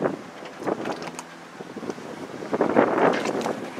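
Grady White 248 Voyager boat with twin two-stroke outboard engines running up on plane, engine roar mixed with heavy wind buffeting on the microphone, close and uneven.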